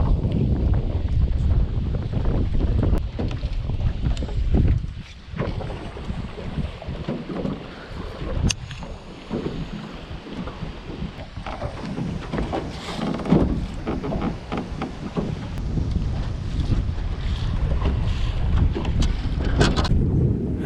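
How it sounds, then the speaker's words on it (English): Strong wind buffets the microphone on open water with whitecaps, a constant loud roaring rush broken by gusts, with waves sloshing against a boat on an overnight fishing trip. "It's literally white capping out here. It's blowing so hard."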